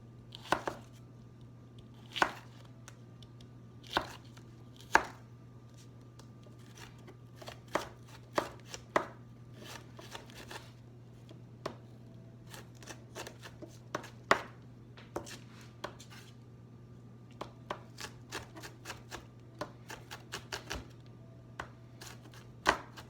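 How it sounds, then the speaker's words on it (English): A knife dices a peeled onion on a cutting board in a home kitchen, with irregular sharp chops, sometimes in quick runs, over a steady low hum. "we're going to dice this one"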